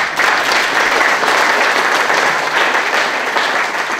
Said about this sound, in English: a big warm round of applause for yourself as well